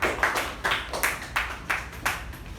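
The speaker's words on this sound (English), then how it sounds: "there is a big round of applause" A small meeting group claps in rhythmic bursts, about seven pulses of hand clapping close and fairly loud, with no talk over it.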